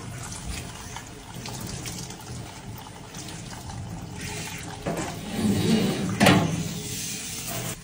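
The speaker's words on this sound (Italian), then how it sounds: "anche questo che è l'acqua corrente all'ozono, che lo passiamo bene ovunque" Running ozonated tap water rinses a small dog, a steady splashing, hissing flow that stays close, with a brief louder gush and spatter near the end.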